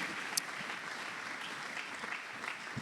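A church congregation bursts into applause to acclaim the Lord during a French-language sermon, a steady wash of many hands clapping at moderate distance with no voices standing out.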